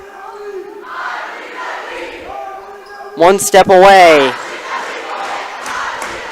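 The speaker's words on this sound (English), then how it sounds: "As the crowd gets riled up." A crowd at a high school boys volleyball game erupts in a loud burst of cheering and yelling for about a second, then settles into a noisy murmur, with an announcer talking over it.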